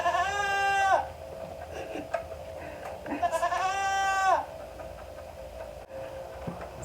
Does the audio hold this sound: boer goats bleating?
yes